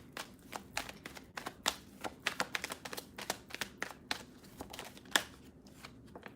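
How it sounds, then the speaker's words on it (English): A deck of playing cards being shuffled nearby, a quick run of crisp flicks and taps with a few sharper snaps, quiet and close with no talk. "You're shuffling a deck of playing cards?"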